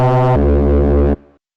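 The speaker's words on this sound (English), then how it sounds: "Reese style bass that sounds like this" A short, loud Reese-style synth bass note for drum and bass, thick and detuned with a growling, phasing low end, held for about a second and then cut off into a fading tail.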